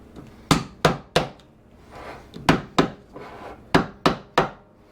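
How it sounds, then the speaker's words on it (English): An old screwdriver is used as a hammer on a wooden kitchen cabinet, giving sharp knocks in two quick bursts with a short scraping pause between them, close and alone. "The old screwdriver hammer."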